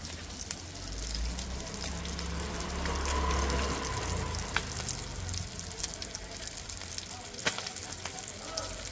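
Butter sizzling steadily in a hot pan while bangda fish cooks, a continuous close frying hiss with occasional crackles and a few soft clinks.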